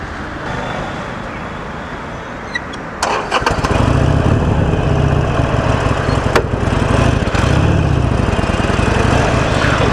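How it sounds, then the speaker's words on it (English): A Harley-Davidson Forty-Eight with a 1200cc V-twin engine cranks and fires after a few quiet seconds, then settles into a loud, close, throbbing idle that carries on steadily. "this bike is a 1200cc vtwin engine"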